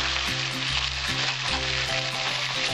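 Cumin paste hitting hot oil for a catfish curry crackles into a strong, even sizzle that runs unbroken and close by, with no voices.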